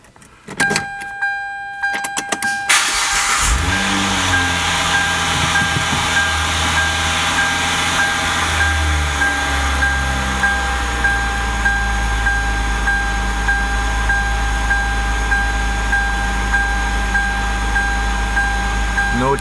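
A Hyundai Tiburon engine cranks briefly, catches and settles into a steady, loud idle that runs on without a break, close by and with no talk over it.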